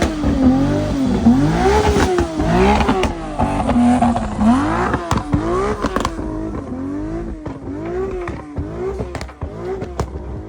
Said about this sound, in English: Here you have the jet car in action